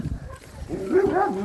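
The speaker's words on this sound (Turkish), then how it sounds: "Arkamdan köpekler geliyor." A dog gives a brief, faint whining yelp, somewhat distant and over quickly.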